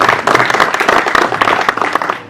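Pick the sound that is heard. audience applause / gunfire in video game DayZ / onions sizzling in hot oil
audience applause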